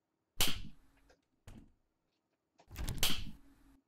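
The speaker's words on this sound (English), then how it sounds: "I hear every door you open." Doors opening in the video game Baldi's Basics: three separate door swings, each a loud thump with a bright swish, spaced apart with quiet between them.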